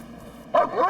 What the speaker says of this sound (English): The dog barked its signal for clear, but McClung